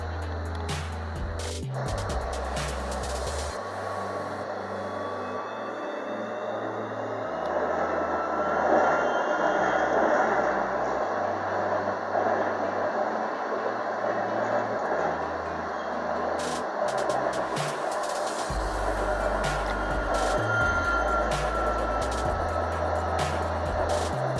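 A Berlin M5 tram runs on its route between Moabit and Hohenschönhausen, with a steady close rumble of wheels on rail, a stepping motor hum that rises and falls, and occasional faint squeals and rattles.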